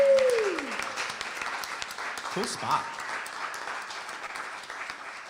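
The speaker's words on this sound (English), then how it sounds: "can we give a round of applause to Hermit Woods Winery and Bob Manley?" Applause for Hermit Woods Winery rises from a small audience at a loft living-room music session, a soft, moderate clapping wash running steadily beneath nearby voices that speak over it.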